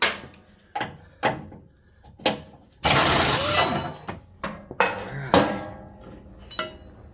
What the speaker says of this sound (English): Get those tow hook bolts off.